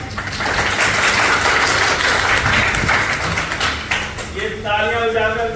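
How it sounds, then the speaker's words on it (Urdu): An audience claps in sustained applause during a lecture on behaviour and communication, a dense patter of hands mixed with voices before a speaker's voice returns near the end. "ہم تالیاں بجا کر کسی کو اپریشیٹ کر"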